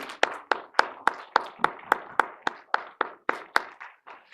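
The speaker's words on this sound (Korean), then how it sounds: "우리 격려와 감사의 박수 한번 다시 한번" Steady rhythmic clapping at a church gathering, about three or four claps per second, sounding like a small group clapping in unison, close and fairly loud.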